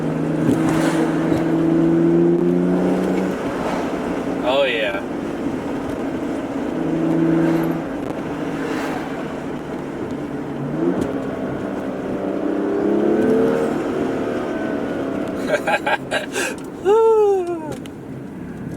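A BMW F30 335i fitted with an aFe Power intake runs with a steady engine drone that swells as boost builds, and rising whistling chirps come near the end. A voice speaks briefly.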